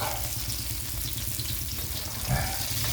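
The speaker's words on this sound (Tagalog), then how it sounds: "Ito siya guys, ang ating mga lamas ngayon na ating piniprito muna" Garlic, tomato and chili sauté in a pan with a steady, dense sizzle that holds throughout, broken by a faint stir near the end.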